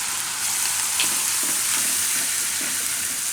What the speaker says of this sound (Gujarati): થોડીક વાર આ રીતે તેલમાં ફેરવી લેવાનું